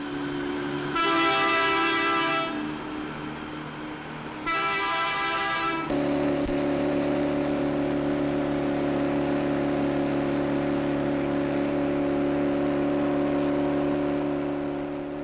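Fell diesel locomotive 10100 on its first trial run, a 1950s engine with hydraulic couplings to the gearbox: two long, loud horn blasts, then a steady, droning engine roar with rail noise that carries on unbroken.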